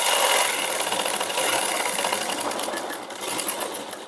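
A sewing machine hums continuously while stitching a princess-cut blouse, a close, even mechanical whir with a slight rise in intensity toward the end.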